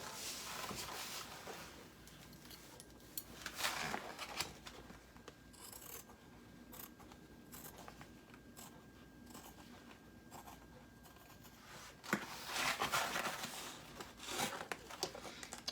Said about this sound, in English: now I'm just going to take my scissors and I'm going to trim all the excess away from the outside